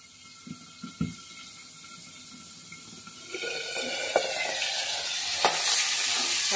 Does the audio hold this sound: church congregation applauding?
no